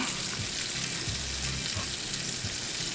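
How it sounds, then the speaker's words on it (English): Chicken wings fry in hot oil in a constant, dense crackling sizzle that stays steady and close throughout, with faint low thumps underneath and no voices. "the wings have been frying"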